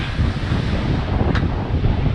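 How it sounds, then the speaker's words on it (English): Strong wind roars steadily across the microphone over the rush of waves on the Andaman Sea, aboard a fully reefed sailboat on a rainy passage; constant, loud and close, with no voices. "Just a short while with very rainy and a lot of wind"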